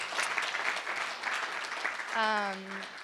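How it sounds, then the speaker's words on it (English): Audience applause after the speakers at a public debate, a steady wash of clapping across the room with a rising tonal voice near the end. "I think we should give them a round of applause."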